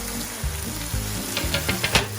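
Shallots, pimientos and onions sauté in a pan with a steady sizzle. Several quick stirring scrapes and taps sound close up, without talk.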